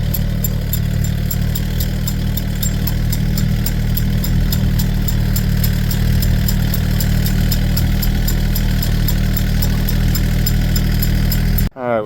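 A tractor engine runs steadily while pulling a Covington one-row corn planter through a field, planting peaches and cream corn with triple 13 fertilizer; a loud, constant low drone continues alone until it cuts off abruptly near the end.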